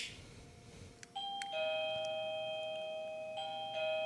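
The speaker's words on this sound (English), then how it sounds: "So all I'm going to go ahead and do is press the button for the doorbell." A wireless doorbell with a built-in multi-sensor chimes after its button is pressed, giving a clear sustained electronic ding tone that rings alone, with a second note returning near the end.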